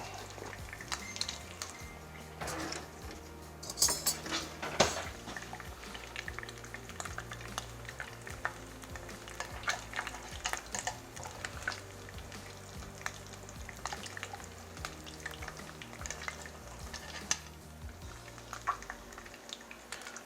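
Ghee sizzles steadily in a pan for a Bengali katla fish curry while a utensil stirs and scrapes, giving intermittent clinks and rattles over a continuous close frying hiss.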